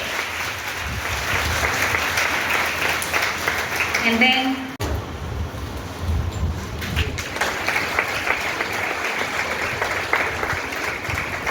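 At a school foundation day ceremony, an audience breaks into thunderous applause, a dense, sustained roar of clapping that carries on loudly for the whole stretch while a voice speaks briefly over it.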